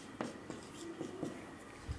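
Pen or chalk strokes from writing numbers by hand during a class 6 maths lesson, a few short scratchy taps and drags spaced across a quiet moment, close and fairly faint.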